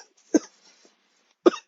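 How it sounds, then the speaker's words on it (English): Two separate coughs, about a second apart, each short and fairly close, with quiet in between. "Okay, I keep coughing."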